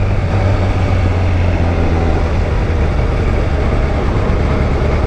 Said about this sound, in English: I have a train out here, bro.